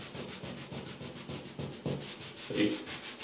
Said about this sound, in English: you can always come back with a wet sponge and try to kind of rub them right off